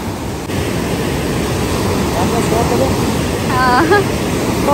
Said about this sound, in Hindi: बहुत ज्यादा शोर हो रहा है पानी का।